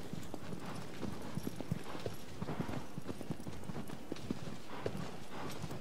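Horse hooves clip-clop steadily in the video game Shadow of the Colossus, a close, regular trotting rhythm of dull thuds over a soft outdoor ambience, with no talk.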